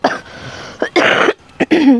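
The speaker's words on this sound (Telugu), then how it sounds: "కొంచెం దగ్గు వస్తుంది జలుబు వలన" Several harsh coughs and throat-clearing bursts from a person with a cold, in quick succession, close and loud, separated by short pauses.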